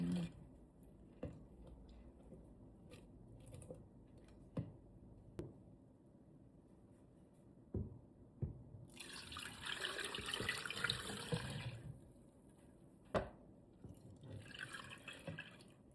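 Cooled salt brine pours over duck eggs in a container, starting as scattered drips and trickles, then swelling into a steady splashing stream before easing back to drips; faint and close, with no talk.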